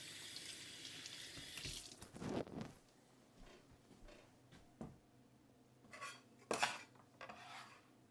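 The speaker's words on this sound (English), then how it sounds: "Give these taters a rinse." Tap water runs into a kitchen sink while potatoes are rinsed, with splashing and scattered clatter against the basin in short bursts, and no talking.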